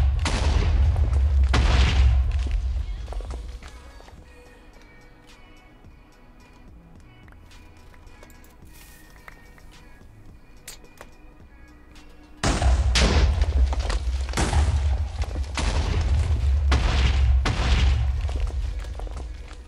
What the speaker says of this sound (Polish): zużyłem TNT